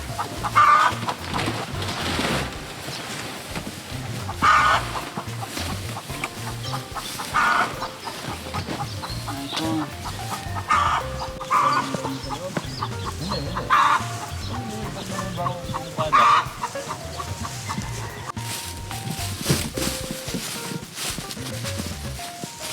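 Two groups of laying hens mixed into one shelter cluck and squawk together in a busy flock, continuous chatter with occasional louder calls, close and lively, with no talking.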